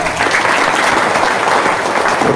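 Audience applause filling a seminar hall, a steady dense clatter of many hands clapping at full strength for a couple of seconds with no voices over it.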